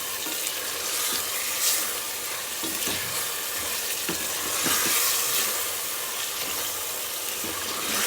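Beef keema fries in about half a cup of oil while being stirred, a loud dense crackling sizzle with intermittent spoon scrapes, steady and close throughout, without speech.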